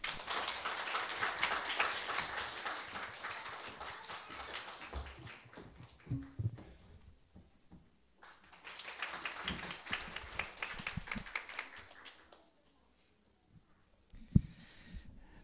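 Audience applause in a school hall welcoming the principal at a Christian school and kindergarten admissions briefing, two bursts of broad clapping separated by a short lull, then fading to quiet.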